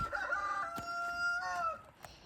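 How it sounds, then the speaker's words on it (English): Roosters kept apart from the hens in a backyard flock crow nearby, one drawn-out cock-a-doodle-doo followed by a second overlapping call, loud and clear with no talking. "So the roosters are just living by themselves here."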